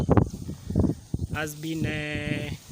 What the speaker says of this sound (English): and the goats now are brought inside too